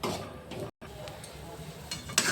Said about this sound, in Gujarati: હવે પાંચસો ગ્રામ લોટ લીધો છે તે ઘીમાં શેકી લઈશું ઘઉંનો લોટ છે